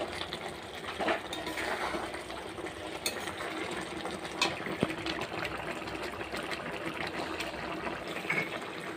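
Coconut and milk mixture for narkel naru being stirred in a pan, a steady wet bubbling simmer with soft irregular scraping and occasional light taps, close and moderately quiet.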